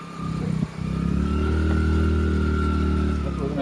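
A motorbike engine hums steadily while riding, a low droning note with a brief dip early on before settling into an even, close, continuous run without talk.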